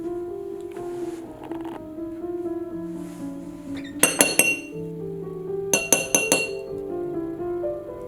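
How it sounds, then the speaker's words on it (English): Flour and baking powder mixed for a tres leches cake, with bright clinks of a utensil striking a glass bowl in two quick rhythmic clusters, close and crisp, over quiet background music. "Mix 1½ cups of flour and 2½ teaspoons of baking powder."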